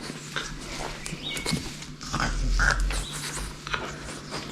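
A small dog gives several short, sharp barks and yelps at close range, with a louder burst in the middle, and no one speaks.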